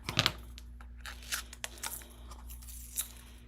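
Scissors cutting open a package, giving a series of close crinkling snips and tearing scrunches of packaging material, irregular and fairly quiet over a low background hum.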